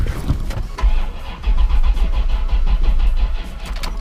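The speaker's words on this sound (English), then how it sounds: "I just tried to turn over the car and it just wouldn't go" A C4 Corvette engine cranks repeatedly without catching, a loud close-up rhythmic churning of the starter that runs steadily for several seconds with no voices.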